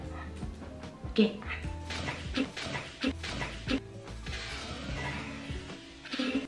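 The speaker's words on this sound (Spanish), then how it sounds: "¿Qué le pasa a mi perra?" A pet dog indoors whimpers and gives short yips and barks in scattered bursts, close by, while someone talks over it.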